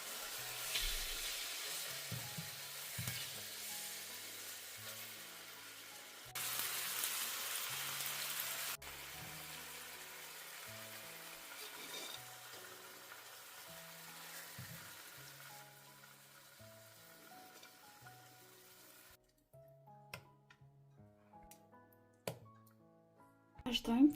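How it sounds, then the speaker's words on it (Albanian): Chicken fillets fry in oil in a pan with a steady sizzle and crackle. Music plays underneath, and the sizzle drops away near the end among a few louder clatters. "I fërgojmë për disa minuta në të dy anët derisa të skuqen mirë filetat e pulës."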